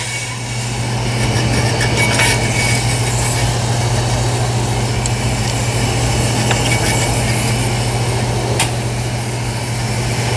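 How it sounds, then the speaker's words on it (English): An on-car brake lathe machining a vehicle's brake rotor gives a loud, steady motor drone with a constant low hum and a faint metallic whine, holding level throughout with no talking. "that's why I use this OnCar lathe so much"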